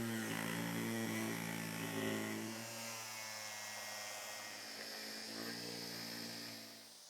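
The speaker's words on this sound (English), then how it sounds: "I like to use a cutoff wheel." Cutoff wheel slicing plastic bumper trim on a Toyota 4Runner, a steady high tonal whine that droops and recovers as the blade loads, continuous and fairly close with no talking.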